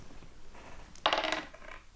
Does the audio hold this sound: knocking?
no